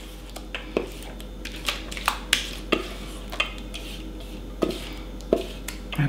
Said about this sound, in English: So what I'm going to do now is transfer this to my baking dish, 2 quart